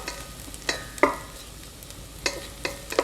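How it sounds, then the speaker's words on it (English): Garlic and ginger sizzle softly in a pan with tofu, with a few light scrapes and taps of a utensil stirring at irregular intervals over a low, steady frying hiss. "here we're just going to mix through our garlic and ginger a little bit"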